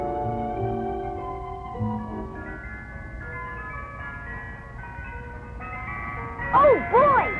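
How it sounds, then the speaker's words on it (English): An ice cream truck plays its jingle, a string of bright musical tones running throughout, while a voice speaks over it and a sliding whistle-like flourish closes the tune. "An ice cream truck!"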